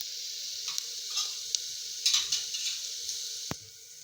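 Garlic, coconut and biryani masala sautéing in a pan for masale bhat, a soft steady sizzle with light stirring scrapes and one sharp utensil tap near the end, no talking.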